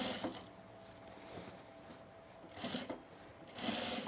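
A sewing machine stitches the side seams of overalls in short bursts, a soft whirring hum with faint mechanical clicking at close range.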